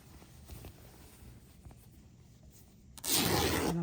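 Fabric for a patriotic Americana DIY board is cut and then torn, a loud burst of ripping noise near the end after a stretch of quiet handling and faint scissor snips.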